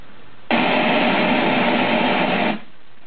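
Generated white noise, a two-second block of steady broadband hiss that starts abruptly and cuts off with a short fade, alone with nothing else around it.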